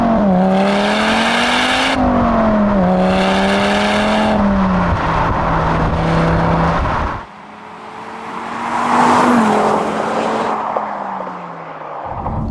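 A 2013 Audi TT RS with its five-cylinder engine and standard exhaust, valves held open, pulls hard through the gears, its loud rising drone broken by shifts, then a lift-off dip and another strong surge.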